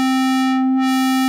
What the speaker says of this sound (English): I just start with a basic sine wave and then add each